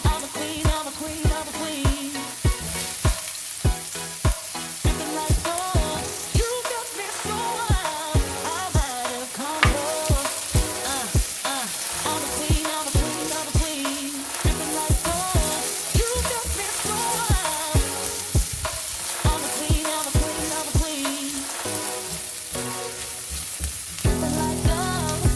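Tilapia fish deep frying in hot oil gives a steady, loud sizzle and crackle, with regular rhythmic clacks as it is stirred or turned, and no talking.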